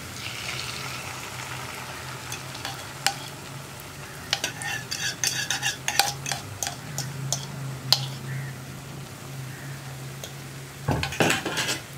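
Beaten eggs stirred in a pan with Chinese potato for mezhukkupuratti, a soft background sizzle under irregular metal spatula clinks and scrapes that cluster into a rapid flurry of taps at the end, close with no talk.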